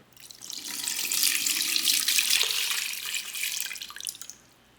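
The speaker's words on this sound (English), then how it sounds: "And then we'll just pour some water over this." Tap water splashes steadily as it is poured from a jug over clay, a continuous bright trickling stream lasting a few seconds before stopping.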